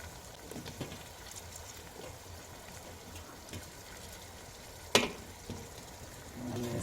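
Green chillies and tomatoes fry in a pan for namkeen seviyan, giving a soft, even sizzle with a sharp utensil clink partway through, fairly quiet, with no voices.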